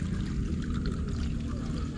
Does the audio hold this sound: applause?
no